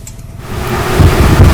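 Wind blowing outdoors through a patch of medicinal plants, a loud low buffeting rush that swells and gusts stronger toward the end, with heavy rumble against the microphone and no voices.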